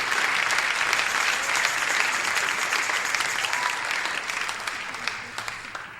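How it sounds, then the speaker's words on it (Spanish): Sustained applause from a church congregation fills the space, a dense steady wash of clapping that carries on throughout and eases slightly toward the end. "denle un aplauso al Señor."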